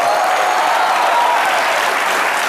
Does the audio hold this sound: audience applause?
yes